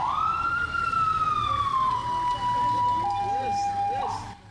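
An ambulance siren wails loudly and steadily, its tone sliding down and then holding, close by and alone in the street.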